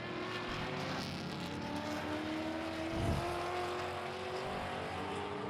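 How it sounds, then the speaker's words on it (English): A Ford Mustang race car in the Iron division at a NASA sports car race, a deep engine rumble heard from a distance that builds slightly as it passes, steady and fairly faint without talk. "The Mustangs have a very distinct rumble to them."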